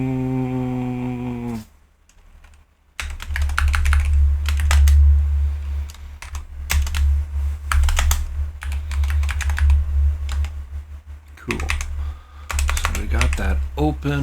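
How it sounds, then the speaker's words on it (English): Rapid typing on a computer keyboard, dense bursts of key clicks continuing through most of the stretch over a steady low hum, with a brief quiet gap early on and occasional voice sounds. "Come on, don't make me type the whole thing."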